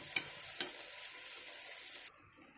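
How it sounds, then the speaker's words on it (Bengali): Steady hiss of pumpkin greens frying in a pan, with two sharp clinks of a utensil against it early on, then the sizzle cuts off. "দেখো সেই শাক ভাজাটা একদম কম হয়ে আসছে, জল শুকিয়ে গেলে হয়ে যাবে ভাজাটা।"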